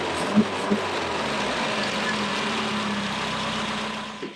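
Rebuilt engine of a 1969 Triumph Spitfire Mk3 idling, a steady low rumbling drone with a couple of brief knocks near the start, close and continuous.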